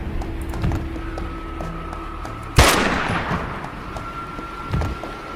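A single sharp gunshot from shooting in the video game Dustland Delivery cracks out loudly mid-clip, with a lingering tail, over a steady low game background and a couple of softer thumps.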